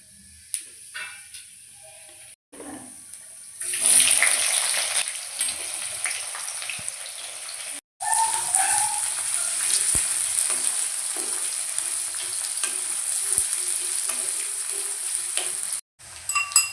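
Whole cumin, cardamom, cloves, cinnamon and Sichuan pepper hit hot oil with onions for Assamese sesame chicken, sizzling loudly and steadily with brief pauses and stirring clatter between bursts.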